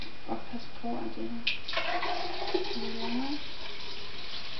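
Liquid pours into a soil sample for a slaking test, a continuous trickling and splashing that runs for several seconds at moderate volume.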